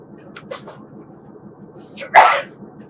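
A single sharp, loud sneeze bursts out in a meeting room, preceded by a couple of faint small sounds against a low background hum.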